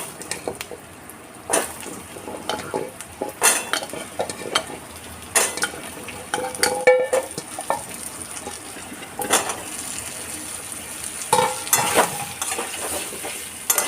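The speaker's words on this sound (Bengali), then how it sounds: "এবারে এই আলুগুলোকে খুব ভালো করে কড়ার মধ্যে ভেজে নিতে হবে।" Diced potatoes fry in hot oil with spices and a bay leaf in a kadai, a constant sizzle broken by repeated scraping and clanking strokes of a spatula against the pan, close and with no talking.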